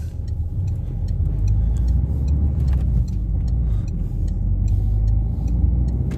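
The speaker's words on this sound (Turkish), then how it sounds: "Evet bir daha aracımızı yokuşta test edelim." A Peugeot 301 engine rumbles steadily with a low, continuous drone while driving uphill, holding an even load throughout, with no talking.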